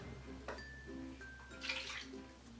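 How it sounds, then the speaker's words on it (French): Vinegar pours into a measuring cup in a short, quiet trickle with a brief splashy swell midway, over faint background hum. "Commençons avec 1/3 de tasse de vinaigre."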